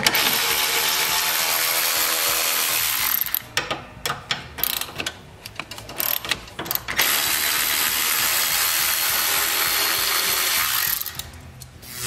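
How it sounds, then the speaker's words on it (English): Rapid ratchet clicking runs loud and close as front bolts, about half-inch, come off a lawn mower transmission axle, with a steady burst, a choppy pause in the middle, then more continuous ratcheting. "we're going to go ahead and remove these bolts in the front, which I think are 1/2 inch"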